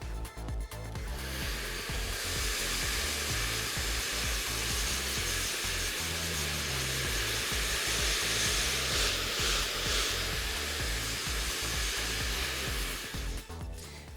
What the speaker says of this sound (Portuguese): Finalizamos a secagem do cabelo e vamos dividir em 6 quadrantes iguais.